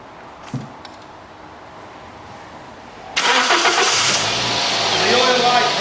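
A Toyota Corolla engine cranks and catches after an oil change, then settles into a steady close idle; the first half is quiet with faint background.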